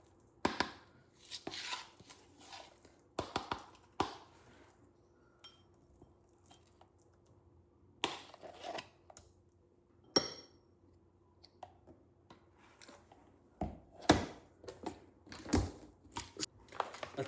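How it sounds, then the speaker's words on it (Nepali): Knife chopping nuts into pieces on a board in a home kitchen, giving quiet, sharp taps in short irregular bursts separated by pauses, with an occasional faint clink, and no talking. "त्यसमाथि टक्क हल्का नट्सहरू हाल्ने। अब नट्सहरू चाहिँ डाइरेक्ट हाल्नुहुन्न, सो हल्का कट हालेर टुक्रा बनाएर हाल्छु मैले चाहिँ।"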